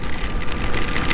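Heavy rain in a downpour during a ride on a Talaria Sting e-bike, a dense, steady roar of water and wind hiss close to the rider.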